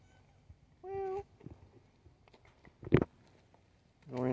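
A mustachioed shop cat gives one drawn-out meow, followed by soft shuffling and light taps, then a louder meow starting at the very end; the room is otherwise quiet.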